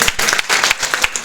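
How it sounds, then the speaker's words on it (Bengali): Audience applause at a prize-giving event at a government ITI, loud and close. Sharp claps come in quick, uneven bursts across the short stretch, with no speech over them. "এবং গণিতের জন্য একটা বড় হাততালি হবে।"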